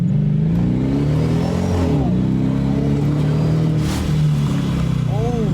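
A 2018 Dodge Charger police car engine revs hard with a rising and falling drone, and a brief whooshing turbo blow-off valve release cuts through the engine noise near the end.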